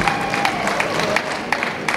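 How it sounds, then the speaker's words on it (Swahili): Applause from an audience, a dense patter of many hands clapping together, steady and moderately loud throughout. "tuwapigie makofi mengi wenzetu wa Clouds Media"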